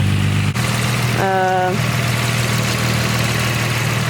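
Nissan G35 engine running at a steady low idle, with a brief dip where it is restarted and a short tonal beep partway through, while people talk nearby.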